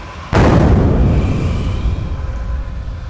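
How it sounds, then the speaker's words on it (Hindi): A loud explosion effect in a Hindi fantasy audio drama, where two magical attacks collide: one sudden boom hits and then rumbles and decays over a few seconds, with no voices over it. "जब दोनों हमले आपस में टकराए तो एक तेज धमाका हुआ।"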